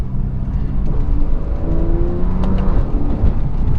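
A Porsche 911 engine rising and falling in revs as the driver downshifts on the paddle shifters, a close, continuous engine note with road noise and no talking.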